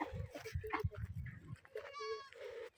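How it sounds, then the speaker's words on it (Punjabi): Young goats climb into a wooden feeding trough on a village farm to eat fodder, with a close, clear bleat near the end over soft shuffling and munching. "ਬੱਕਰੀ ਦੇ ਬੱਚਾ ਜਿਹੜਾ ਹੈ ਨਾ ਖਾ ਰਹੇ ਨੇ ਆਪਦਾ ਚਾਰਾ ਉਖਰਾਣੀ ਦੇ ਵਿੱਚ ਚੜ੍ਹ ਕੇ"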